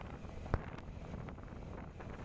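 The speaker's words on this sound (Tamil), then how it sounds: "அதோடைய வந்து ஜில்லுன்னு காற்று அடிக்குதுங்க" Cool wind buffeting the microphone during a motorbike ride on a rural road near a dam in Tamil Nadu: a low, steady rushing blast with one sharp thump early on, and no talk.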